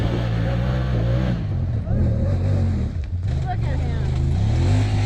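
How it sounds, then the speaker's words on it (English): A bone-stock Honda Talon R side-by-side on 27-inch tires climbs a rough trail in low range manual mode, its engine droning and revving steadily and loudly, with a person talking over it. "So here's my run at low range manual mode, bone stock Talon R on effectively 27-inch tires."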